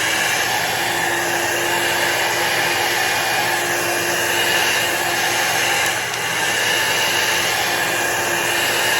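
A heat tool blows a steady, loud whooshing drone across an alcohol ink painting of flowers, continuous and close for the whole stretch with no talking.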